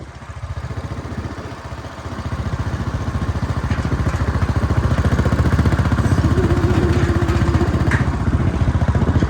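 Motorcycles riding along a jungle trail, with a steady, loud, throbbing engine drone that swells slightly as it goes on and keeps a rapid rhythmic pulse throughout, with no talk.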